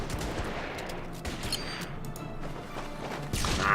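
Gunfire and explosive impacts from the World War II strategy game Order of Battle: Panzerkrieg, set at Sevastopol: a loud burst of overlapping shots and crashes, followed by further scattered bangs.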